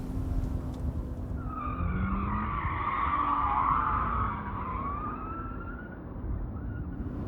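Scion FR-S tires squealing on a skid pad with traction control off in first gear, a long rising and falling screech over a steady engine drone, loud and close.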